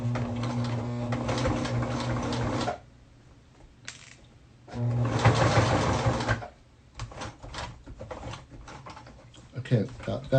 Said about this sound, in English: I like to use a jeans sewing needle.